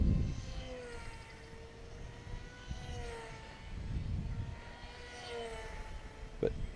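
A J&H Aerospace Fractal airplane flying overhead, its engine whine rising and falling as it passes at a distance, steady and moderate with no talking.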